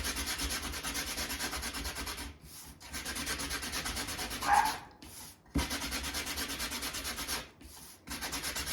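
Repeated rubbing strokes of sandpaper on a wooden sunflower cutout, steady rasping bursts separated by short pauses, close and moderately quiet.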